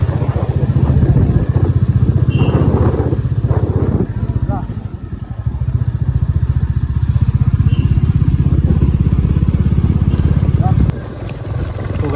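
A motorcycle engine runs steadily and loudly close by for most of the stretch on a mountain ride toward Darjeeling, a continuous throbbing drone that drops away near the end, with voices talking over it.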